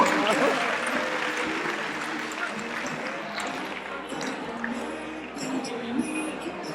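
Audience applause at a Thai teachers' farewell performance for graduating class 132, a dense steady patter of many hands filling the hall, with a voice speaking faintly over it.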